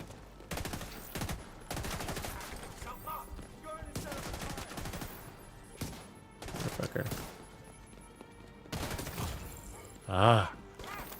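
Gunfire in The Division 2, with bursts of rapid shots in repeated volleys separated by brief pauses. Near the end comes a sharp tonal game cue or a groan, and there is no clear speech.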